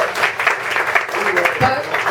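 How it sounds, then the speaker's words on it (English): An audience at a city mayoral campaign kickoff event in Allentown applauds the mayor, steady clapping from a crowd filling the whole moment, with a faint voice underneath. "You can applaud him if you like."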